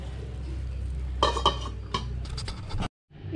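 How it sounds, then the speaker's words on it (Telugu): A metal lid goes back onto a pot of chicken biryani with a few close clinks and scrapes against the rim over a low stove hum, followed by a brief moment of silence. "మళ్ళీ మూత పెట్టేద్దాం."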